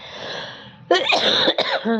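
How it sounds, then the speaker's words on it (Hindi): A single close, harsh cough bursts out after a quiet stretch of low background hum, followed by a second shorter cough. "मेरी खांसी अभी तक ठीक नहीं हुई है"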